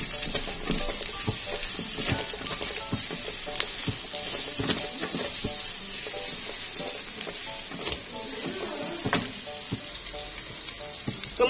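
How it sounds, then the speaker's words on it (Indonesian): Ingredients for a tofu dish stir-fry in a hot pan, giving a steady, close sizzle with frequent scraping and clicking from stirring, unbroken throughout. "Kemudian kita tumis sampai wangi."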